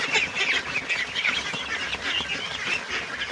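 Ducks feeding on azolla, a busy flock of young ducks whose dense, continuous dabbling and chattering calls fill the clip at a steady close level without pause.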